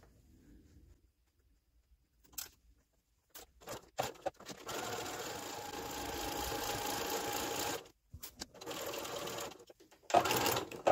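A sewing machine stitches a seam on plain weave fabric made from knitting yarn, running in several close bursts of rapid whirring with pauses between, finishing with a short back stitch run.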